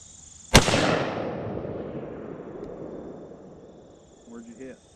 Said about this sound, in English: here's Max shooting the 223